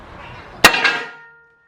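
A single sharp metallic clang of a wheel pounded down onto an upside-down bucket, followed by a brief second knock and a ringing decay.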